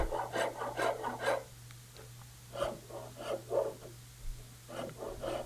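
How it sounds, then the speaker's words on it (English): A Shinto saw rasp carves the profile of a wooden guitar neck in quick, rhythmic scraping strokes up close. One burst of strokes is followed by a short pause, then another run of rasping. "And then I move on to carving the neck profile. This is a Shinto saw rasp."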